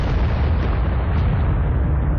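A ship blown apart by gunfire in the video game Aliens vs. Predator: a loud, sustained, rumbling explosion with a heavy roaring low end that fills the whole clip without a break.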